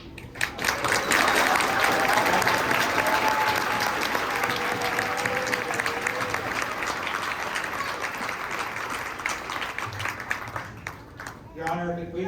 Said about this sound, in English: please stand if we could have everyone applaud.